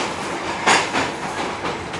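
Volgograd metro light rail train in motion, heard from inside the car: a steady rolling rumble with soft rhythmic clacks of wheels over rail joints and a brief brighter screech, no voices.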